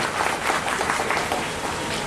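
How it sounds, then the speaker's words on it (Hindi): Audience applause welcomes a guest at a political gathering: brief, dense clapping from a crowd, steady and moderately loud throughout the short stretch, with no voices rising above it. "हमारे बड़े भाई अरुण कुशवाहा जी, मैं उनका भी स्वागत जोरदार तालियों से करना चाहता हूं।"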